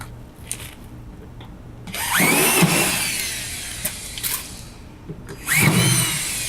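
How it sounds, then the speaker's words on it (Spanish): A power drill drives screws into an AQUAPANEL cement board during a board installation, heard as two short whirring bursts separated by quieter handling noise. "Bueno, seguiríamos atornillando toda la placa."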